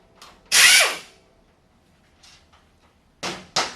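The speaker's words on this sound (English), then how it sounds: "you need a 3/4 inch socket to remove the nut off the compressor shaft on a 508 compressor" An impact-style power tool fitted with a 3/4 inch socket spins a nut off the compressor shaft of a Sanden 508 compressor in short bursts: one long whir, a faint blip, then two quick final zips.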